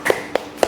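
A teacher leads a class clapping chant with three sharp, close hand claps in a quick uneven rhythm, with no talking.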